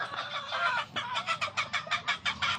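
Golden Monkey and Golden Boy gamefowl roosters in a breeding pen in General Santos City, heard as a rapid series of close, raspy clucks in a steady rhythm.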